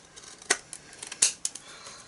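Small bits of paper peeled off glue-covered scissors while making a simple birthday card, giving a few brief, sharp close crackles and snips spaced over a couple of seconds, with no talk.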